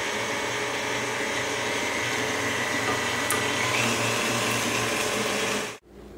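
An electric mixer beats cupcake batter on medium speed with a steady, close motor whir and a faint rattling texture, running continuously before cutting off abruptly at the end.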